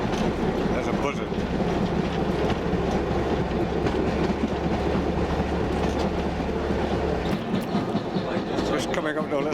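A narrow gauge train runs on rails between George and Mossel Bay, giving a loud, steady rumble with rhythmic clickety-clack of wheels heard from on board, and a low drone that drops away near the end.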